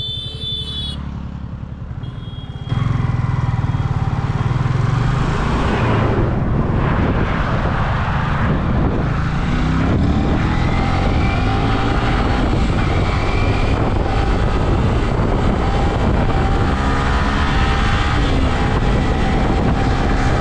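A motorcycle speeds along a highway with a loud, sustained engine and wind roar that begins after a quieter opening and continues steadily to the end.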